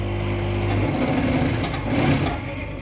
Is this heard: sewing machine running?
yes